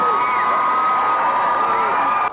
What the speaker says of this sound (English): Listen to the St. Joseph crowd here as the Vikings are calling timeout with 6:20 remaining